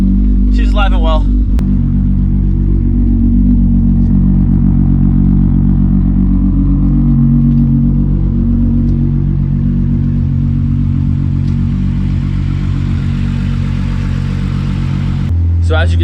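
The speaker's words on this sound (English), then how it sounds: "So as you can see and as you can hear, the car still runs perfectly." Race car engine running after a Nurburgring off-track incident: a loud, steady idle dominates the whole stretch with a short rev at the start and a slight drop near the end, and someone talks over it.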